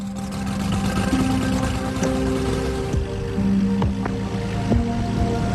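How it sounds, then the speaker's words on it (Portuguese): A small aircraft engine turns over and runs after the key is turned, giving a steady, fairly loud mechanical drone with faint whining tones and a few brief clicks over it. "Coloque a chave e dê partida no motor."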